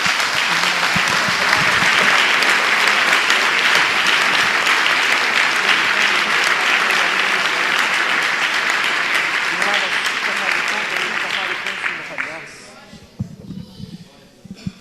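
Congregation applauding the Lord during a church sermon, a dense sustained roar of clapping from many hands that fills the room, then thins and fades out near the end.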